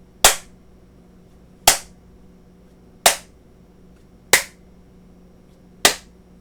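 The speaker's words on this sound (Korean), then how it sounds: "한번 박수를 쳐볼까요?" Single sharp hand claps used to test an Arduino microphone sound sensor module, five isolated loud claps spaced about 1.4 seconds apart in a quiet room, each with a brief decay.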